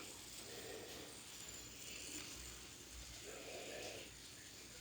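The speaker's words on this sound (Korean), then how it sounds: "아, 아 돌렸는데 많이 부드럽게 돌아갑니다." A ceramic fidget spinner spins smoothly, giving a faint, steady mechanical whir with soft ratcheting texture that swells slightly and eases over about five seconds, heard alone and quiet.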